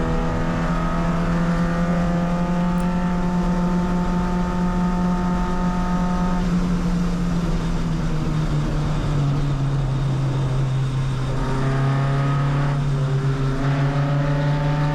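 A race car engine drones steadily during a race as the driver overtakes another car at a corner, the track still dirty off the racing line. The loud in-car tone holds high, dips as the car slows, then climbs again while a second engine note joins in.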